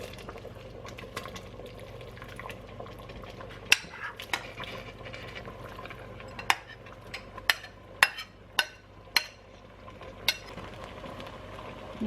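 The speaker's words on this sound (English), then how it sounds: "Mix it well." A spoon scrapes and clinks against a pot while Vietnamese corn pudding is stirred, giving sharp irregular knocks over a faint bubbling simmer, with no talking.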